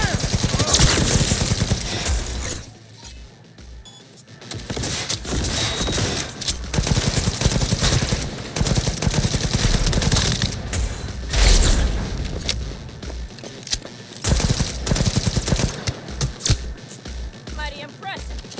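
Dense, continuous gunfire and bursts of automatic fire from a shooter video game, Cyberpunk 2077, played on very hard difficulty, close and loud throughout, with brief lulls and shouted voices over the shooting.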